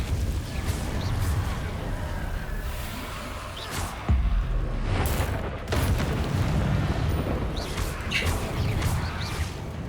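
Confringo fire spell exploding in Hogwarts Legacy gameplay, loud booming blasts and crashes over a dense rumbling game soundscape, several impacts through the stretch.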